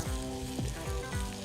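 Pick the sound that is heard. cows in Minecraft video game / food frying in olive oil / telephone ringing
food frying in olive oil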